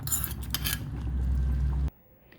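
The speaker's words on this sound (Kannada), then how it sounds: "ಈ ಒಗ್ಗರಣೆನ ಇದಕ್ಕೆ ಹಾಕಿದ್ರೆ ಸಾರು ರೆಡಿ ಆಯಿತು." A hot tempering with dried red chillies is tipped into ripe mango rasam, with a couple of metal pan clinks followed by a close, steady hiss and sizzle that cuts off abruptly, leaving near silence.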